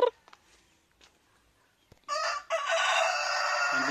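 Free-range province-type chickens and chicks out foraging: a few faint clucks and scratches, then a loud rooster crows nearby and keeps crowing to the end, with no talk.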